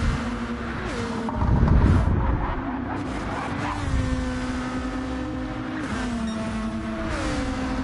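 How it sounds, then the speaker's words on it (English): Open-wheel race cars in a racing video game howl past with rising and falling engine whines, several revving through gear changes, one loud pass near the start, and engine tones sliding in pitch throughout. "These things kind of sound like Indy cars."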